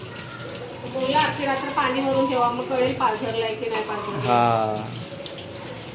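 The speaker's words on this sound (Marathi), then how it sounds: "आता ह्याच्यामध्ये अख्खी रात्र पाणी टाकायचं" Water runs and splashes into a clay water pot in a home, a continuous gurgling pour that shifts in pitch as it fills, under someone speaking.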